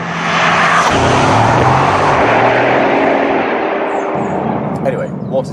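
A Bugatti Chiron hypercar cruising slowly on a road in Portugal gives a loud, steady engine and road roar from inside the cabin, with a voice talking over it throughout.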